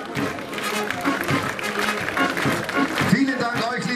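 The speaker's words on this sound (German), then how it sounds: "Begrüßen Sie die Kinder mit einem herzlichen Applaus." Warm applause from onlookers at a district music festival parade in Hohentengen welcomes kindergarten children marching past, moderate clapping mixed with crowd noise and a voice talking over it throughout.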